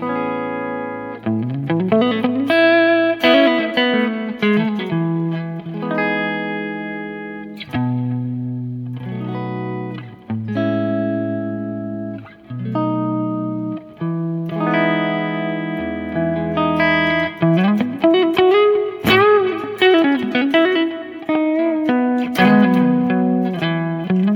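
A melodic bass line played with a light wash of reverb and a touch of delay, steady and full, carrying on for the whole stretch without any voices.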